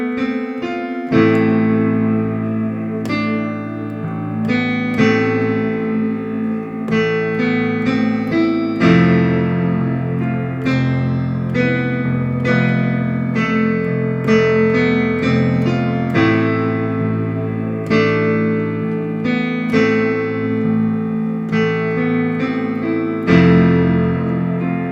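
A theme from Batman v Superman, slowed down, plays as a sustained orchestral piece with deep low strings and piano-like notes struck in a slow, steady rhythm, full and continuous throughout.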